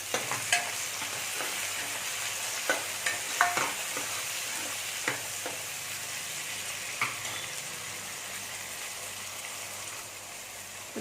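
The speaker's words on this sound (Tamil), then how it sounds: "இதையும் சேர்த்தே வதக்கிடுறேன்" Tomatoes sautéing in a pan for urundai kulambu, a steady close sizzle with occasional clinks and scrapes of a spoon stirring, no voices.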